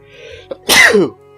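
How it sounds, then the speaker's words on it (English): A single sharp human sneeze, close and loud, with a brief intake of breath just before and a quiet game-music background. "Oh, excuse me, I just sneezed."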